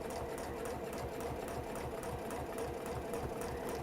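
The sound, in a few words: sewing machine sewing along marked line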